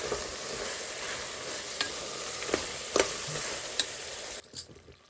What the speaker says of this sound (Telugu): ఇప్పుడైతే చికెన్ వేసి కలుపుకున్నాం కదండి, మంచిగా ఆయిల్లో మగ్గింది.